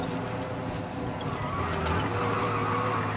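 Car engine droning steadily in Mafia: Definitive Edition as the vehicle drives along, a continuous low rumble with road noise and no talk during this stretch.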